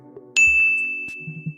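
A bright single ding notification chime rings out cleanly and sustains, clear and close over a faint low background murmur.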